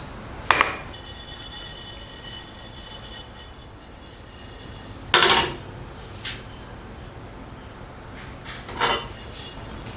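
Salt and Sichuan peppercorns are tossed in a pan over low heat, giving sparse gritty rattles and a few sharp clatters of grains and metal against a quiet background hiss.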